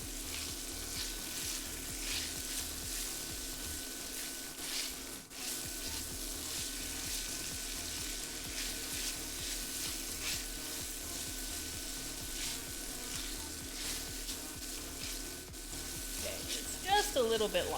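Sage and bacon fry in a pan with a steady, soft sizzle and crackle throughout, fairly quiet and continuous, with faint kitchen sounds near the end.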